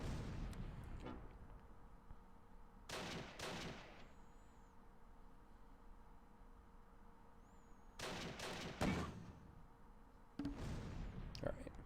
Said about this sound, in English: Let's put our last couple of rounds of mortar into that house.